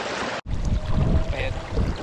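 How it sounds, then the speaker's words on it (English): Wind gusting hard across the microphone beside a river creek on a chilly day, a loud continuous low rumbling buffet that drops out for a moment, with no talking. "wind has picked up and it got chilly quickly"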